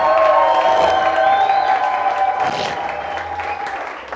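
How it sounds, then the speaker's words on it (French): A church congregation at a Sunday service applauding and cheering loudly in praise, a sustained wall of clapping with whoops that fades slightly toward the end. "Acclame très fortement le Seigneur"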